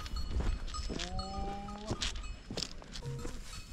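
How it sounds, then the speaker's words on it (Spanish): Cattle bellowing among a large herd of cows on a hillside as they are brought down, with a couple of long drawn-out harmonic moos at mid distance over steady outdoor rustle and faint clanking. "Oigan, bramidones pegan"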